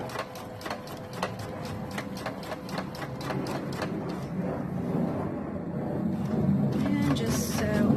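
A sewing machine runs steadily for the whole stretch while stitching around a pant hem, its fast rhythmic needle clatter close and moderately loud, with a slight rise in level toward the end.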